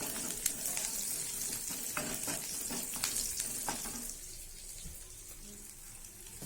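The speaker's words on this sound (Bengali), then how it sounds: "এই যে ডিম রান্নাটা করে নিচ্ছি।" An egg cooks in a pan with a steady, close sizzle of frying, broken by short scraping stirs in the first few seconds before the sizzle settles and softens.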